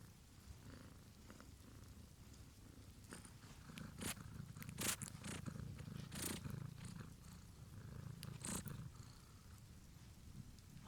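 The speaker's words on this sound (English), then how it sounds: "You name it then, and it purrs in agreement." A cat purrs in a soft continuous rumble, close and quiet, with faint clicks and rustles over it and no talking.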